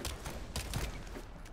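Gunfire in the shooter game The First Descendant, a quick burst of several muffled shots in rapid succession at low level, no talk.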